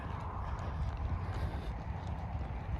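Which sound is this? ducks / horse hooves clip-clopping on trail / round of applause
horse hooves clip-clopping on trail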